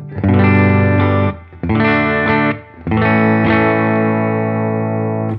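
Distorted electric guitar chords through a pedalboard with polarity reverse on ring out loudly in three sustained strums with short gaps between them, thick and effected with a chorus-like shimmer.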